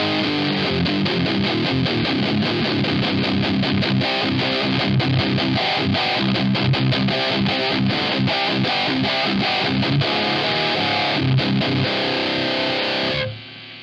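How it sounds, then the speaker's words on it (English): Tom'sline ADT distortion pedal cranked to high gain, a loud, continuous saturated guitar tone with a steady hiss running beneath it, cutting off abruptly near the end. "So if we crank it, you can hear, and I can see, a lot of hiss."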